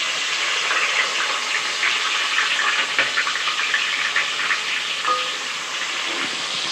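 Chopped onion and whole spices fry in hot oil in a pan for a prawn pulao, giving a steady, loud, close sizzle that holds evenly throughout, with no talking.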